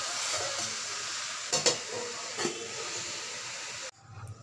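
Spinach cooking in a pan over a ginger-paste tempering, a steady close hiss of frying with a couple of brief stirring knocks, then the sizzle abruptly muffles near the end as if covered.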